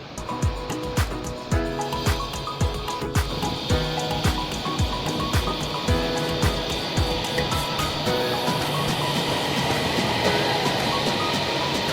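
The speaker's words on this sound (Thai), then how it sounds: "วันนี้ดีใจเพื่อนๆได้มานั่งรถไฟฟ้าสายสีทอง" A driverless automated Gold Line train in Bangkok rolls along with steady interior rumble and regular rhythmic clacks over the track joints, loud and close throughout with no talk.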